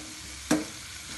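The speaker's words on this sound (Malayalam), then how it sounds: "ഈ മുളക് പൊടിയുടെ പച്ചമണം മാറുന്നത് വരെ നമുക്ക് ഇങ്ങനെ ഒന്ന് ഇളക്കി കൊടുക്കാം" A spoon scraping once through a chilli powder mixture sizzling in a pan for tomato chutney, a single short stir with a crackle over a low steady fry, close by, no voices.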